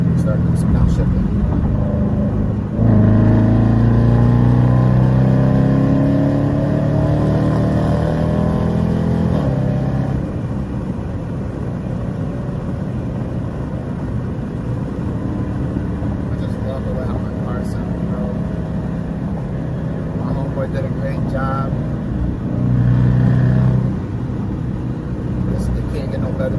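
A car engine revving through downshifts while driving, its rising and falling harmonic sweeps heard clearly early on, then steady loud road and engine drone with voices talking over it.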